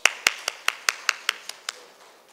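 A few people clapping to welcome a speaker at an event, about ten sharp, evenly spaced claps close by that thin out and stop after two seconds.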